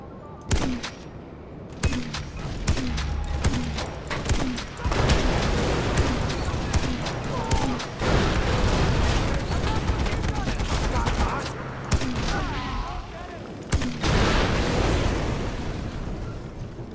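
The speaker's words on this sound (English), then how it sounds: "This isn't a machine gun. This is a grenade machine gun." A grenade machine gun fires nonstop in Far Cry 4, with rapid thudding launches and explosions piling up into a loud, continuous barrage. Players talk over the din.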